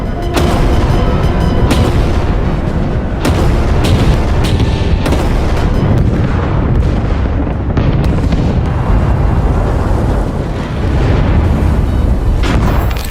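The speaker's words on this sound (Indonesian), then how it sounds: "pasukan artileri Jerman mulai melakukan penyerangan bertubi-tubi" Loud, continuous rumbling booms of German artillery fire and explosions overlap in a dense barrage, with sharper bursts breaking through the roar.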